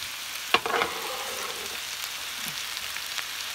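Sliced purple onion sizzles while being stir-fried in a pan, a soft steady hiss with a sharp clatter of stirring near the start.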